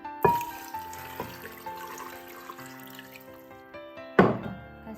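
Water pours into a soup pot holding Bidens pilosa, lean pork and red dates, a steady running splash with a couple of sharp knocks against the pot and a louder clunk near the end.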